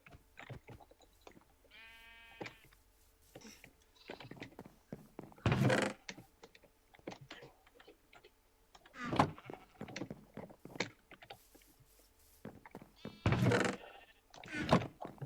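Sheep in a video game bleat several times in loud bursts, spread irregularly among softer clicks, thumps and other game sounds.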